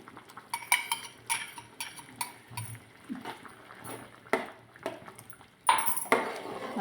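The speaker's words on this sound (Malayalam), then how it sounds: "നന്നായി ഇളക്കി കൊടുക്കുക." A spoon stirring coconut milk in a metal pot, producing irregular light clinks and scrapes against the pot, fairly close and quiet, with no talking.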